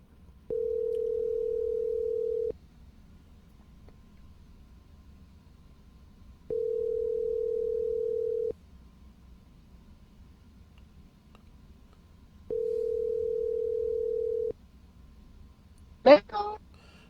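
A telephone ringback tone sounds while a call is placed to a guest: three steady two-second tones evenly spaced about six seconds apart, clear over a quiet background, then a brief burst of noise at the end.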